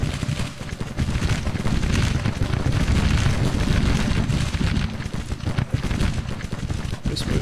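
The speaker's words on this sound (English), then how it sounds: "So let's limber this one howitzer battery. And now it's firing and it got loud again." A howitzer battery fires in Grand Tactician: Civil War, its booms merging into a dense, continuous roar of artillery and battle noise that stays loud throughout.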